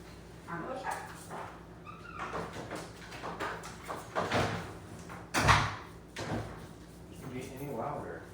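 Several dogs waiting to be fed whimper, yip and give short barks in scattered bursts, close by and fairly faint, with a louder yelp midway and some indoor knocking.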